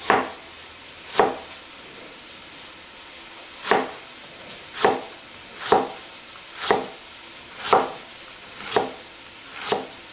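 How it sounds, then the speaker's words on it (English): Knife chopping food on a cutting board while making chicken cooked in yogurt, about nine sharp, distinct knocks at an uneven, unhurried pace, close and clear with no talking. "Give it a rough chop lengthwise."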